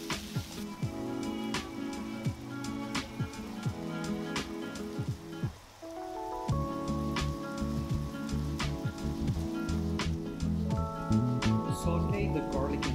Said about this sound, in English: Saute the meat until it's nice and brown.